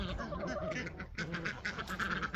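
Ducks quack continuously in a busy farmyard morning chorus, several birds overlapping at moderate distance, with goose-like honks mixed in.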